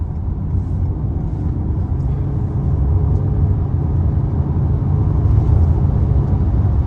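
Hybrid car engine accelerating to overtake another car, a steady low rumble that swells slightly louder toward the end, heard from inside the cabin with no talk.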